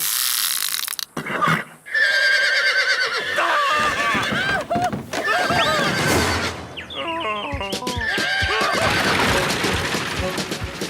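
Stagecoach horses whinny and neigh wildly in a cartoon Wild West scene, loud repeated cries mixed with clattering hooves, rattling mechanisms and a crash.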